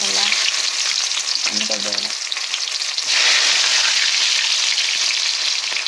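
Chopped onions fry with mustard seeds in hot oil, a loud, steady sizzle with crackling and occasional stirring, briefly under a few words of talk early on.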